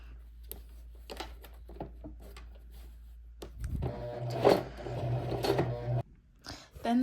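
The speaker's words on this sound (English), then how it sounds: "So I'm gonna start sewing them together." Leather bag pieces are sewn together: soft, scattered handling noises come first, then a louder mechanical whirring run lasts about two seconds before stopping.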